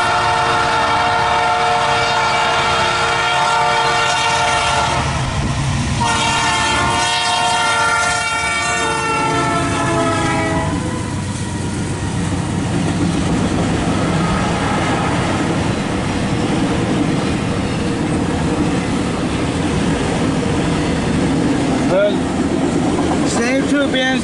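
CSX L277 empty autorack freight train with two BNSF locomotives passing close, loud horn blasts early, then a long rumbling roar of wagons rolling by with steady clatter; no one talks.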